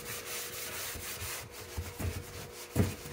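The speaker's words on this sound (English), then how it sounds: "So I'm just gonna keep scrubbing" Scrubbing a dirty bathtub with Comet cleanser gives a steady, close, gritty rubbing, with a few louder strokes near the end and no talk.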